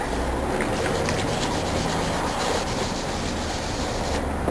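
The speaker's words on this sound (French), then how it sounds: "Et on frotte." Someone scrubs a surface with the abrasive side of a Scotch-Brite sponge, using water and washing powder, in a continuous close rubbing and scraping with no talk.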